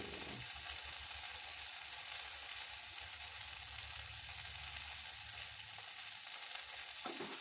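Sliced bitter gourd fries in a pan with a constant, even sizzle and bubbling hiss, close and moderately loud, steady throughout with faint stirring near the end and no voices.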